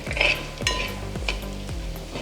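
Pork fries in coconut oil over a medium flame, sizzling steadily as a spoon stirs it in a few distinct scraping strokes with light metallic knocks against the pan.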